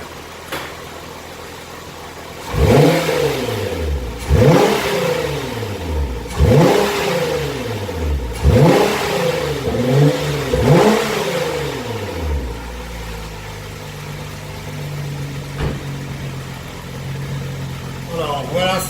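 A Nissan GT-R without dump valves idles, then is revved in five or six sharp bursts, each rising and falling back to idle, before settling into a steady idle. Someone talks intermittently over the engine.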